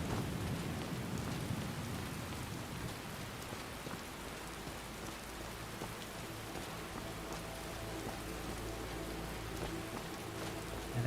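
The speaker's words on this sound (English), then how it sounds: "And I can't wait to get out of this rain." Steady rain pours down in Skyrim, a dense, even hiss of rainfall on surfaces that holds at one level throughout, with faint low rumbles underneath and no voices.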